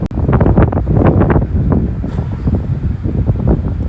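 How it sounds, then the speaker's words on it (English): Wind gusts along Vasagatan, a Stockholm city street, as a dense, continuous low roar and buffeting rumble that stays loud for the whole stretch with no clear break. "It's always windy."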